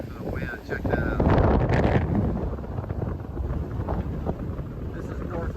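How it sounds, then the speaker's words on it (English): North wind blows across a beach dune at a dune restoration site, buffeting the microphone with a steady, loud rush and a stronger gust early on. "This is north winds right here."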